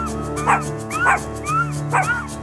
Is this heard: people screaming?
no